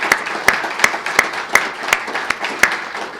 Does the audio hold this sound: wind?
no